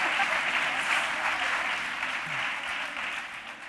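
A studio audience on a television discussion programme gives sustained, dense applause that holds steady and fills the room for several seconds, with no voices standing out.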